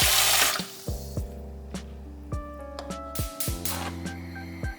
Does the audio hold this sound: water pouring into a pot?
yes